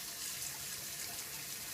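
Cool tap water runs steadily into a sink to thaw food, a constant faint hiss and splash with no voices.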